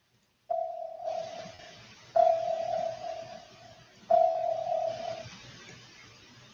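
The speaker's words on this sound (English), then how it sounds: "Here, let me play you an echo ping." Three recorded sonar echo pings, each a sharp tonal ping that rings and slowly fades before the next, evenly spaced and otherwise quiet.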